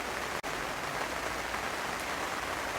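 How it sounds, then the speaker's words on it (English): Steady rain falls on a garden during weeding work, a constant dense hiss with no voices, broken only by one very brief dropout. "and it's still raining"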